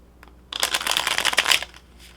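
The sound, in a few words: shuffling cards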